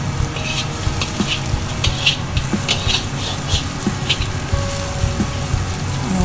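Noodles being stir-fried in a hot pan for Singapore-style noodles, a steady close sizzle with repeated scraping and stirring strokes running throughout, no talking.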